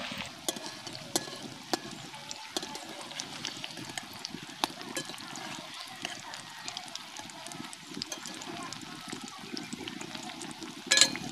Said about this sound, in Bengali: এবার আমি ফুলগুলোকে ভেজে নেব।